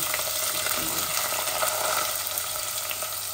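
Sliced onions sizzle after going into a pan of hot oil where dry spices have browned, a steady, dense frying hiss with faint stirring scrapes running throughout, close and continuous with no talk.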